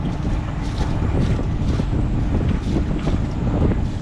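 A boat engine runs at about 2,800 RPM while pushing into the weather at 2 knots, a steady low drone buried under strong wind buffeting and rushing water, loud and continuous.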